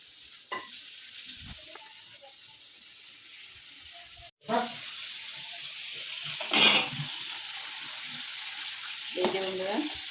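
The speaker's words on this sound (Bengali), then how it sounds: "এই যেমন তেলটা গরম হয়ে গেছে, তেলে দিয়ে দেবো।" Twisted potato spirals frying in hot oil make a continuous sizzle, with a louder hiss as more pieces go into the pan and brief clatters of handling, and no voices.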